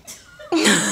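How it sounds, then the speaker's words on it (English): A single brief throat clearing, a short rough burst after a faint breath, close and fairly loud. "Show me how you clear your throat."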